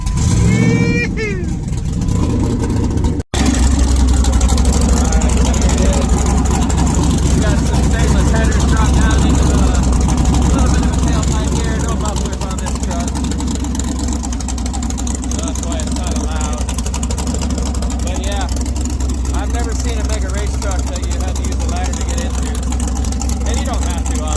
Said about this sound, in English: Yeah, sounds pretty good for a little LS motor.